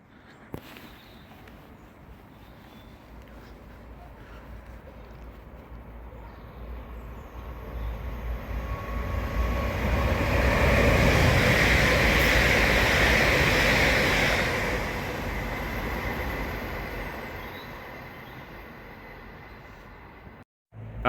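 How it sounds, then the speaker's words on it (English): A TransPennine Express class 802 train, unit 802-201, runs through Crossgates station without stopping, a rushing roar that swells gradually from distant to close and loud, peaks with a hissing wheel and air rush, then fades away. "the TransPennine Express service to Liverpool Lime Street from Newcastle with 802-201 passing through platform 2 at Crossgates"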